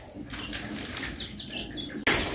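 A flock of pigeons at a rural Vietnamese home flaps its wings in a close, rustling burst of flight lasting a couple of seconds, ending in a sharp loud clatter.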